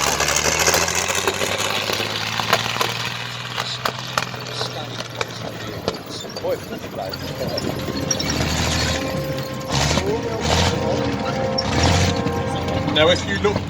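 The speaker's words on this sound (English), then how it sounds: "a rarity driving around a World War II Panther tank with, as you can hear, splashing away slightly there, an original Maybach engine in the back" A World War II Panther tank with its original Maybach engine rumbles and idles, a low throbbing drone with clanks and splashing noises, heard under continuous commentary from someone speaking over a loudspeaker.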